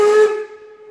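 The steam whistle of class 50 locomotive 50 3648-8 gives a short shrill blast with hissing steam that cuts off after a quarter second, leaving a fainter lingering whistle tone, heard up close from the cab.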